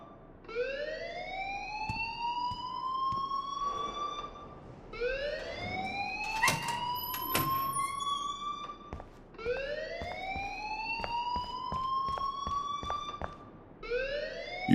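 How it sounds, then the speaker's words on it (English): A wailing electronic alarm from the video game Life Is Strange, rising sweeps repeating every four seconds or so, loud and steady with a few faint clicks between cycles and no talk. "please turn off that alarm since that's your job"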